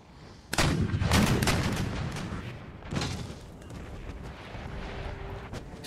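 Booming artillery volleys in a Napoleonic-era battle from the strategy game Empire: Total War, two heavy cannon blasts rolling into a dense rumble of distant gunfire and battlefield noise.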